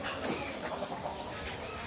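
A rooster and chickens cluck in a farmyard that also holds goats and cattle, close and fairly loud, with a continuous rough chatter of clucks and no pauses.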